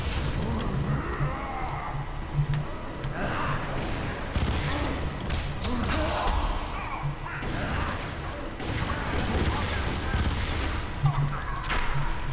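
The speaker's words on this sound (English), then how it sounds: "Oh damn it, they're shooting me now." Enemy gunfire in the shooter game F.E.A.R. 3, dense volleys of shots crackling throughout amid crashes and rumble, with a player speaking over it.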